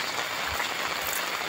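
Heavy rain falling steadily on a road during a walk in the Konkan countryside, a dense, even hiss that stays loud and unbroken throughout with no voices.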